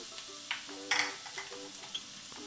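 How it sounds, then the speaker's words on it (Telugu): Onions and green chillies frying in mutton fat, with a soft sizzle and a few light stirring scrapes in short bursts, close and fairly quiet, with no talking. "ఆనియన్స్ పచ్చిమిర్చి యాడ్ చేసుకొని ఇవి గోల్డెన్ బ్రౌన్ వచ్చేంత వరకు వేయించుకోండి."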